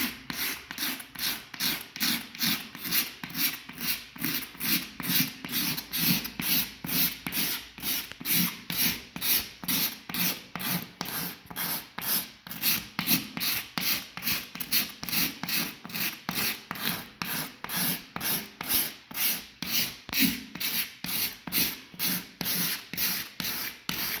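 A small razor blade shaves wood flush during a housing complex renovation, giving a steady rhythmic rasping scrape that repeats about twice per second, close and continuous with no talking.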